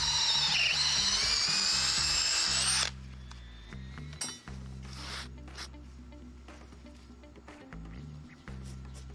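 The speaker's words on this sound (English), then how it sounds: "we'll drill a few holes in this timber" A power drill whines at high speed boring holes into a landscaping timber, a loud sustained screech for a few seconds, then lower motor revving and stop-start bursts as the bit works through the wood.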